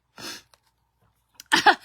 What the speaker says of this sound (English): I'm over here just sneezing but this floor is real dusty